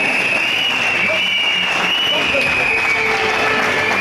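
A congregation at a graduation ceremony in Abidjan, Côte d'Ivoire, applauding in a loud dense wash of clapping with cheering, continuous throughout and mixed with voices.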